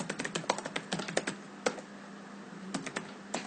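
Rapid keystrokes on a computer keyboard typing a network router command, close and crisp, in quick bursts with a short pause midway and a few final taps.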